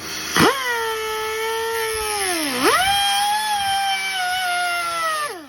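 Power tool cutting a small slot into a seized Nissan Murano ignition lock, a loud steady high-pitched whine with a brief bogging dip partway through, running continuously alone until it cuts off.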